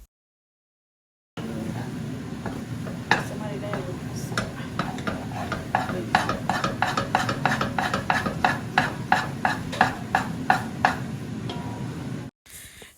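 Tusha sinni being stirred in a pot, with a spoon scraping in a quick regular rhythm over steady background noise. The sound starts after a silent opening and ends abruptly.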